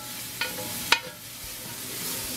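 Diced onions fry in bacon fat in a pan, a soft even sizzle underneath two sharp clanks of a utensil against the cookware, with no voices.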